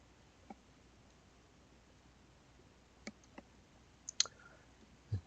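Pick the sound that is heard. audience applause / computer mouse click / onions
computer mouse click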